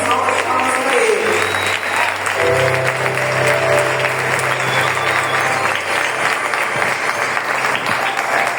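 A congregation in a Brazilian Baptist church claps loudly and continuously in praise after a testimony, dense close applause running for the whole stretch with a sustained organ or keyboard tone underneath.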